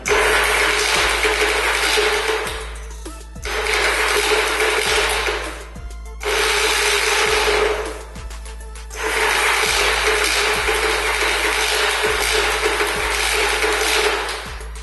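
Yamaha Virago XV920 motorcycle, choke on, electric starter cranking in several long whirring bursts with short pauses between, the engine turning over but never catching; loud and close, no talking.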